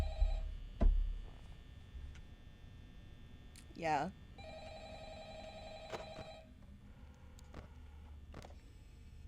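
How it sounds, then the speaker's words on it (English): A telephone rings in the horror game Five Nights at Freddy's, with intermittent ring tones over a low hum and mechanical noises, while a person speaks briefly. "Answer the phone."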